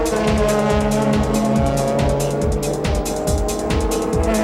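GT race cars competing in a 2004 JGTC race with a Ferrari taking the lead, loud high-revving engines roaring close by with rhythmic gear-change pulses and overlapping engine tones.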